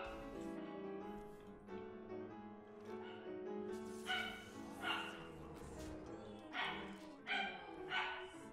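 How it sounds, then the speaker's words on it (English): A pet dog barks several times in quick bursts, sharp and fairly close, over steady background music with no one speaking. "Shiro, what are you barking about?"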